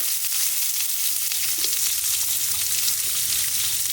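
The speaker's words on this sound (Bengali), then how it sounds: "চিংড়ি মাছ রান্না করার জন্য প্রথমে মশলাগুলোকে তেলে ভেজে নেবো।" Whole spices, dried chilli and onion fry in oil in a pan for prawn curry, producing a steady close sizzle with a faint stirring scrape, and no voices.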